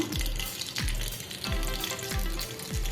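Mustard seeds and cumin crackle and sizzle in a tablespoon of hot oil, a steady loud frying hiss broken by a few regular scraping strokes of a spoon.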